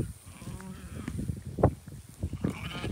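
Hair sheep on a small homestead ranch bleat a few times, short nasal calls close by amid shuffling farmyard noise.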